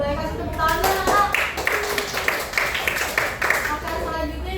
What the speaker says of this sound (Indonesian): Boleh kasih tepuk tangan Kak?